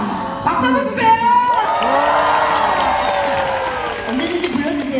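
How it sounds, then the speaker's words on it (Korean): A fan meeting audience cheers and applauds, high excited shouts and whoops over a bed of clapping, with voices talking over the crowd noise at the start and end. "박수 한번 주세요."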